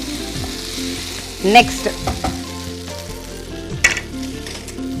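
Spices and ingredients are stirred in a frying pan while preparing macaroni with chickpeas, giving a steady sizzle with spatula scrapes and a few louder clatters, up close. A voice briefly speaks once.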